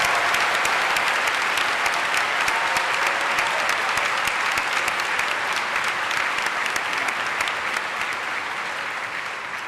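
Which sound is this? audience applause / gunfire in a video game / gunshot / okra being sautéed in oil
audience applause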